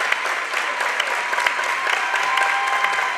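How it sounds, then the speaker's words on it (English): Redbank fans applauding in a gym at a girls' high school basketball semifinal, steady sustained clapping from a crowd at moderate distance with no voices on top. "Nice round of applause by the Redbank fans."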